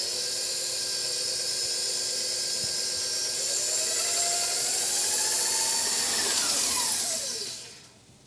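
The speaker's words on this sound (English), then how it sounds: "I'm going to put this back in the mixer. And I'm going to mix this up and mix it for a good 30 seconds as well." A stand mixer whirs steadily as it beats gluten-free cheese bagel dough, a loud high motor whine that rises slightly in pitch before spinning down and fading at the end, with no talking.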